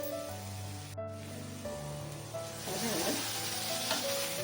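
Chana masala simmering in a pan as water is poured in, a sustained sizzle and bubbling hiss that grows fuller toward the end, with a low steady hum underneath.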